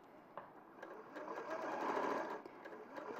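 A sewing machine stitches applique fabric through the presser foot with a quiet, rapid mechanical whir that swells in the middle, with faint clicks around it.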